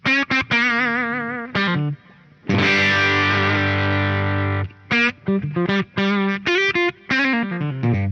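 An electric guitar plays through a Dr Z StangRay amp with chewy power-amp saturation: short distorted phrases and bends, a long sustained chord ringing out in the middle, then more quick licks, loud and close.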